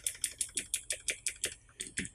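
Typing on a mechanical keyboard with Cherry MX or Razer switches: about a dozen crisp, evenly paced key clacks, close and clear, without any speech.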